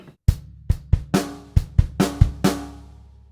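A short drum kit groove from a piece: punchy bass drum and snare hits in a syncopated pattern, about nine strikes over three seconds, close and clear, ending on a ringing hit.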